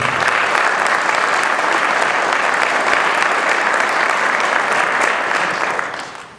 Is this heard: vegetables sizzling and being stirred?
no